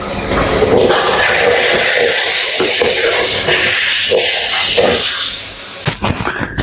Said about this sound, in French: on le voit pas, mais ça flambe